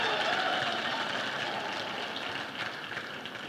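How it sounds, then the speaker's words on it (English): A crowd at a university graduation ceremony applauds with dense, continuous clapping that fades slightly toward the end, with no voices over it. "let us give them a round of applause, ululations, celebrations,"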